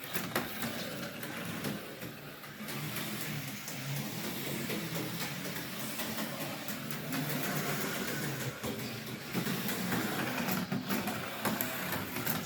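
A small AFX slot car runs laps on a track on fresh tires, its tiny motor making a continuous close buzzing whir that stays steady throughout with no talk.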